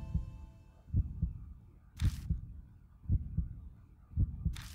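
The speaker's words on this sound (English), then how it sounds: "The heartbeat begs to differ." A heartbeat sound effect from the horror game Death Mark thumps in low, paired double beats at a slow, even rhythm, with faint hiss bursts between them and no speech.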